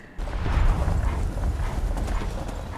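Hooves clop steadily in a quick rhythm against a heavy low rumble, a horse moving at close range with no voices, in the video game Skyrim.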